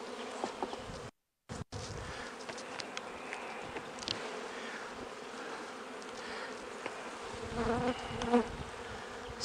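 Honeybees at an open double deep frame hive, steady dense buzzing of many insects close by, with a brief dropout near the start and slight swells later, no talk.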